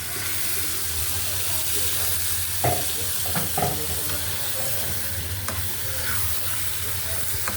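Boal fish frying in a pan with onion, tomatoes, turmeric, coriander, cumin and chili, a constant close sizzle and hiss with a few soft stirring knocks.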